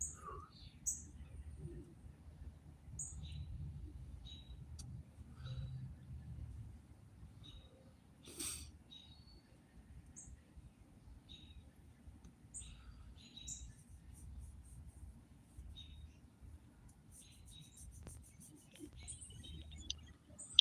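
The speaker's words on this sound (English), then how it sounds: "The bigger birds are moving in now." Small birds chirp and tweet in short, scattered high calls over about twenty seconds, with bigger birds moving in. The calls are faint and distant over a low background rumble, with a soft voice now and then.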